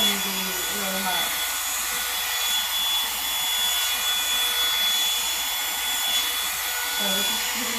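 A Revlon One-Step Volumizing hair dryer blows close by with a steady, loud whooshing roar, its motor humming evenly throughout while brushing and rubbing noises shift under the airflow.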